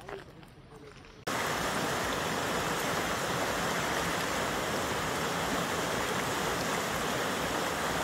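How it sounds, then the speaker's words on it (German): A river rushing past a mountain hiking trail in the Trettachtal valley near Oberstdorf in the Allgäu, a loud steady roar of flowing water that starts abruptly after a quieter opening moment. "wenn man hier so an dem schönen Fluss vorbeiläuft"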